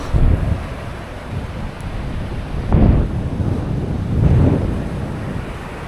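High surf breaking on a beach in Yunlin, Taiwan, during surf fishing, with heavy wind rumble across the microphone and two or three swelling wave surges rolling in loud and close.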